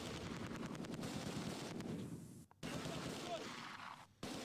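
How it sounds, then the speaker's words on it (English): Rapid bursts of MG42 machine gun fire in the World War II strategy game Close Combat 2: A Bridge Too Far, dense and continuous at first, then broken by short gaps, with steady battle noise underneath. "They're assaulting with an MG42?"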